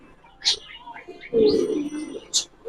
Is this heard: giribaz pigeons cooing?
yes